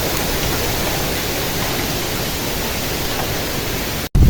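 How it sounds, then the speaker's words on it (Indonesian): Strong wind blowing on the coast of South Banyuwangi, a loud continuous broadband roar that stays steady throughout, then briefly drops out near the end. "Banyuwangi Selatan anginnya kayak gini lur"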